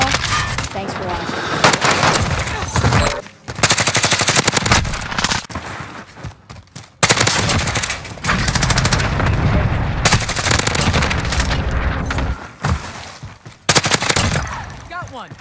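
Grau 5.56 assault rifle fire in a multiplayer first-person shooter, loud sustained automatic bursts with brief pauses between volleys, layered with dense game effects and occasional voices.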